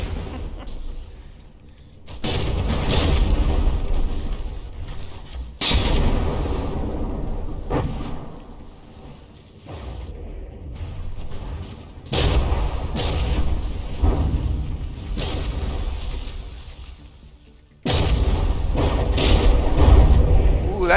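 Heavy battleship gunfire booms and thuds in the naval combat game From the Depths as a gun on the ship takes a direct hit, with repeated loud blasts in bursts and someone talking throughout.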